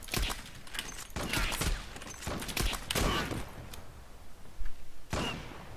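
Gunfire in the online shooter Zula: a fast series of sharp shots and crackling bursts, close and loud, spread unevenly across several seconds with short gaps between volleys.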